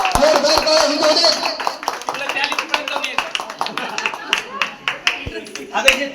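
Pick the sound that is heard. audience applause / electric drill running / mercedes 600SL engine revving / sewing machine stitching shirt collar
audience applause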